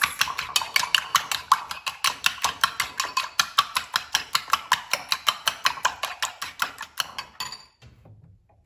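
Eggs and milk whisked in a bowl for an omelette, a steady fast run of light clinking strokes against the bowl for about seven seconds, close and clear with no talking, then stopping.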